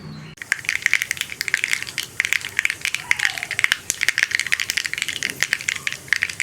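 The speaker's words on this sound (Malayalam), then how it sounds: "അപ്പോൾ നമ്മുടെ കടുക് പൊട്ടിക്കൊണ്ടിരിക്കുന്നുണ്ട്." Mustard seeds popping in hot coconut oil for a beetroot dal curry, a dense run of sharp crackles and spits that comes close and loud and keeps going without pause.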